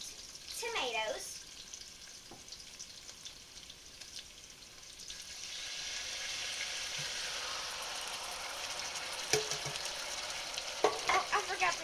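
Diced tomatoes added to a hot pan of simmering spaghetti sauce, a steady close sizzle with intermittent scraping and stirring clatter, brief quiet sounds of a person nearby.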